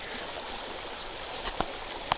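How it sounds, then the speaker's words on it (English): A creek near Weaverville, California flows with a soft, steady babble heard from nearby, moderately quiet, with a couple of faint clicks from movement and no talking. "There's the creek."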